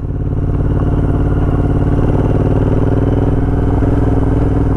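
A Royal Enfield Interceptor 865cc twin with a Domino XM2 quick throttle runs steadily and loudly close by, its engine holding a continuous throbbing drone with slight revving throughout.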